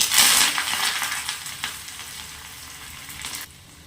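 Garlic, onion and curry leaves hitting hot oil for a bamboo-shoot sambar, starting with a loud sizzling burst that slowly eases into a steady crackle, then drops off suddenly near the end; no speech.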